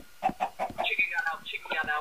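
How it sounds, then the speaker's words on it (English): Chicken clucking in the video game Minecraft, a few short repeated clucks early on, followed by higher chirpy game or voice sounds, moderately loud. "Chicken got out."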